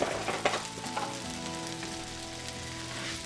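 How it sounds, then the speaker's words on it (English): Cumin seeds sizzle in hot oil in a pan, a steady, close crackling hiss with a few louder pops at the start, settling into an even fry. "Here I've added 1 teaspoon of cumin seeds."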